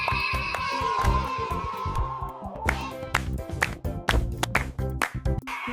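Rhythmic hand claps beat along with a bright children's alphabet song, sharp repeated claps landing over the cheerful melody and accompaniment.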